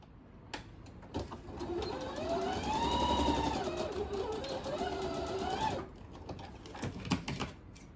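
A sewing machine joins a fabric strip for a patchwork rag rug, running in one steady whirring burst of about five seconds, close and clear, with a few clicks and handling sounds before and after.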